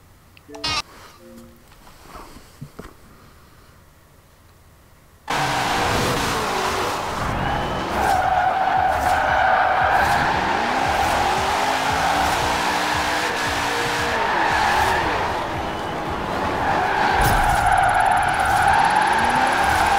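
A 1969 Hot Wheels Twin Mill in Forza Horizon 4 roars into a sustained rear-wheel-drive drift, engine howling and revs rising and falling over continuous tire squeal after a brief quieter intro.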